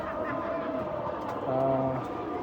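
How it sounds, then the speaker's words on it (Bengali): Racing pigeons in a loft give low, soft cooing that swells briefly midway, heard close against a steady background hum. "এই যে আমার রেসার কবুতরগুলা"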